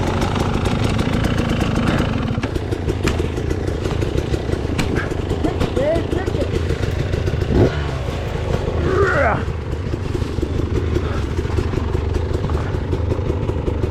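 Dirt bike engines rev and idle on a snowy winter mountain run, a steady loud rumbling drone running throughout with shifting throttle swells, and a person talking faintly over the engine noise.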